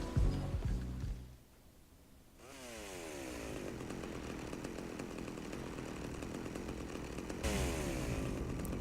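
A chainsaw revs and runs in GTA Vice City, starting with a few sputters, then winding up into a loud, sustained buzzing whine that surges again near the end.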